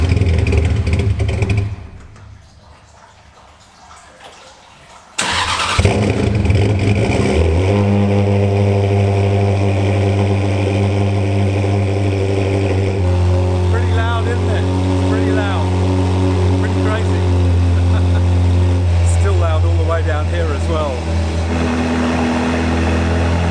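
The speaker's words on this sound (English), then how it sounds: "now the cold start cycle has ended and it's now idling a bit low" A Ferrari 360 engine settles into a steady, slightly low, fruity idle after an ECU reset and cold start. The close, even hum starts after a brief quieter stretch, and a voice talks now and then over it.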